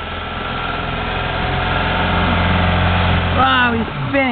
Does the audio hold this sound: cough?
no